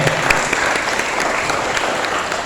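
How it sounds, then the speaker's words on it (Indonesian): A large audience at a national Santri Day stock-investing study event gives Pak Purnomo loud, sustained applause, a dense wash of clapping that fills the room, with faint voices underneath. "Boleh tepuk tangan sekali lagi buat Pak Purnomo"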